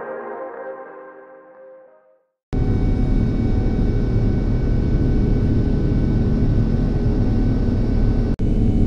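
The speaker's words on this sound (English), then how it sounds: "we are ready for takeoff" Steady loud roar inside the cabin of a Starlux Airlines Airbus A330-900neo on its takeoff run, the engines surging suddenly after a quieter fading hum, with a brief dropout near the end.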